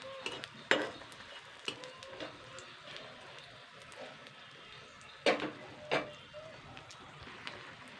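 Egg and sago pitha frying in a pan of oil, with a low steady sizzle and a few sharp clinks of a utensil against the pan.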